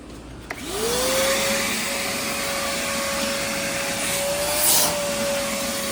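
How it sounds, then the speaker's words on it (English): A second vacuum cleaner switches on with a click and quickly spins up to a loud, steady whine that holds for several seconds with a slight rise in pitch near the end, running alone without any voices. "This is vacuum number 2. No way it works, right?"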